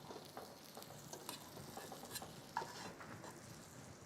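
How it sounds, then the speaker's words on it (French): Cabbage is turned over in a cooking pan, with a soft constant sizzle and gentle stirring scrapes and taps, quiet and close. "Là, je vais en profiter pour retourner le chou."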